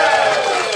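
Comedy club audience cheering and whooping at the opening of a show, a dense, loud crowd roar held steady through a short burst.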